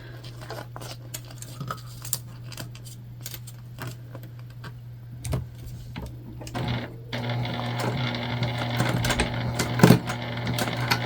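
A sewing machine's presser foot gripping for fabric: a steady low machine hum runs throughout, with scattered clicks and light rattling that grow busier and louder toward the end, no talking.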